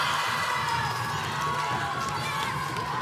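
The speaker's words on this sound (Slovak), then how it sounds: "Na jednej strane už máme potlesk" Applause from a studio audience on a Slovak TV quiz show, a dense, continuous wash of clapping with some cheering mixed in, steady and full throughout the short stretch.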